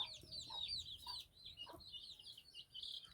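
Hens cluck and squawk close by in a busy, overlapping flurry of short calls, with no talking.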